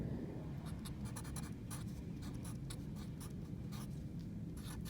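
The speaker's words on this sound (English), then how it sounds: "we're going to write down the formula just one more time" A pen or marker writing out a math formula, with steady scratchy strokes in quick bursts over a constant low background hum.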